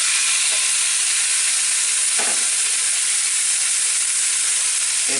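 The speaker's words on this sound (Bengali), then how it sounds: "এই মাংসগুলাকে, মুরগির মাংসগুলাকে আমি ভেজে নিব।" Chicken pieces fry in hot oil in a small pan, giving a loud, steady close sizzle and hiss that holds throughout, with a couple of faint stirring scrapes.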